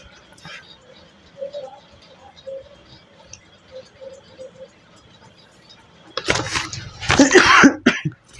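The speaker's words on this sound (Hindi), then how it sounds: "थोड़ा खांसी हुआ है" A couple of sharp, loud coughs burst out near the end after a stretch of quiet background murmur, close to the microphone.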